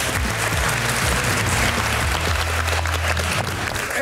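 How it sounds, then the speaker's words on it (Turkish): A game-show studio audience applauds on a Turkish quiz programme, a dense, loud wash of clapping that runs throughout, with low musical tones playing underneath. "Şimdi Dizmen'in turuna gidiyoruz alkışlarınızla"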